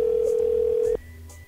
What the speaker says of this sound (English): See, Rick hung up.